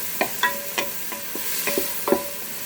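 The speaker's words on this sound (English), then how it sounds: "Now we're going to throw our shrimps back in. Give it another quick toss." Shrimp and zucchini noodles tossed in a Ninja Foodi pot, a series of short scraping and clinking stirs with a light sizzle underneath, spaced irregularly and fairly close.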